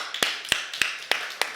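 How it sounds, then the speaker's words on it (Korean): Five sharp, evenly spaced hand claps ring out in a church, slow and deliberate, roughly three per second, each with a short echo tail and no chatter around them. "우리 하나님께 영광의 박수"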